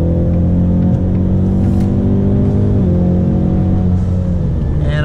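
Ford Mustang S550 engine heard from inside while driving, a loud steady drone with gear-change steps in pitch as it drops gears and pulls harder, continuous and close, with no talking.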